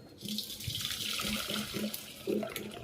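Dissolved jaggery water strained from a pot while making rava burelu, a steady watery pouring and trickling rush running throughout with a faint repeating low hum, no voices.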